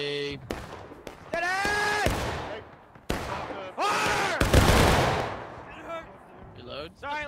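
Musket fire in War of Rights, a Civil War battle with a large infantry line: several loud booming shots crack out one after another amid shouted orders, voices talking over the rolling volley.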